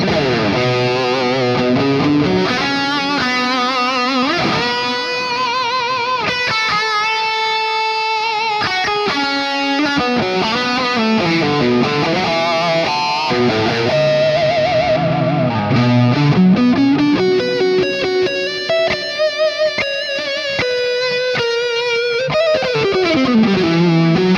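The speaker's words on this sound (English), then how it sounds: "Let's check this one out with some reverb and delay." Distorted electric guitar lead on a Hotone Ampero 2 modeling an overdriven boutique amp, with reverb and delay trailing each phrase, loud and continuous, bending and sliding notes with no talking.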